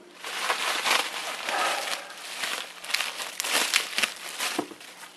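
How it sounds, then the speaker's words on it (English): Bubble wrap packaging around a RAM kit is cut open and crinkled, giving a continuous close, loud crackling rustle with brief sharper crinkle bursts and no talking. "I might just cut the bubble wrap instead"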